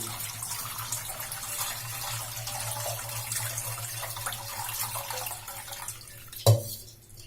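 Plain water pours steadily into a pot of drained, strained vermicelli, making a continuous close rush with a sharp clunk near the end.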